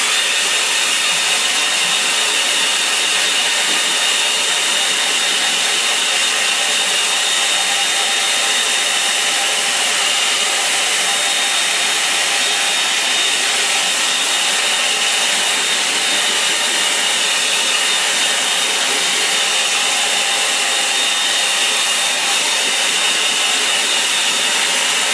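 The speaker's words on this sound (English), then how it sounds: "Right, hair dryer. Take your headphones off. I'm just going to give this a dry." Steady, loud whooshing roar of a hair dryer drying a painting, running continuously close by, with a constant airy hiss that doesn't change throughout.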